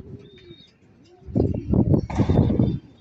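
Nearby pigeons, including a checkered white-feathered bird, coo softly and then break into a burst of rapid wing flapping as they take off, lasting around a second and a half, with a voice faintly present.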